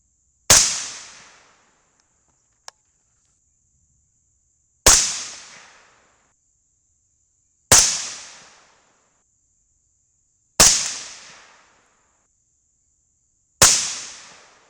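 .223 rifle firing with Winchester primers: five sharp, loud single shots spaced a few seconds apart, each with a quick decaying echo, plus one faint small click between the first two, with no talk.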